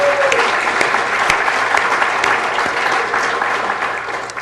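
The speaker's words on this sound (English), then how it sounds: "Let's give them all a round of applause while they come up." Steady applause from attendees at a city council meeting as honorees come forward, a continuous even wash of clapping heard alone at moderate distance.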